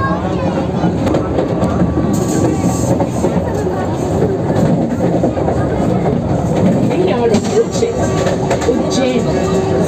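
The Bhopal–Indore Vande Bharat express on its inaugural run as it nears Ujjain station, heard from inside: a loud, steady rumble of wheels on rails with faint squeals, and passengers talking underneath.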